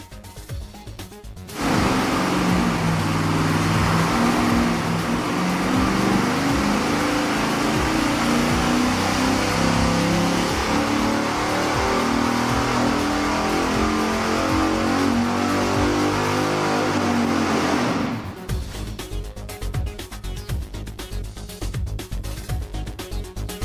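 A V8 engine fitted with shorty exhaust headers revs hard on a dynamometer, building to a loud sustained pull for roughly sixteen seconds before cutting off into a lower rumbling idle with ambient noise.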